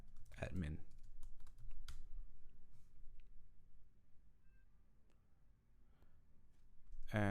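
A command is typed on a computer keyboard as quick, light key clicks tapped in short irregular runs, close and fairly quiet, with a brief voice at the start and end.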